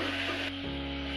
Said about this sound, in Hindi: हम ऑयल में मटन को अच्छे से भून लेंगे